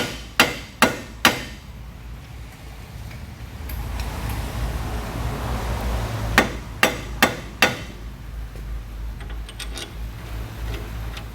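Metal hammer taps on a strut bolt during suspension work on a 2007 Ford Focus: three sharp close strikes, a pause with low shop rumble, then four more evenly spaced hits.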